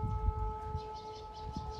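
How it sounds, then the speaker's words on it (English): Air raid warning sirens wailing in Ukraine, steady tones sounding at a distance beneath low rumbling background noise, with no speech. "And in the background, if you're listening, are the warning sirens."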